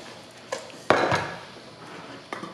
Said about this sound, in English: I will get my pot ready.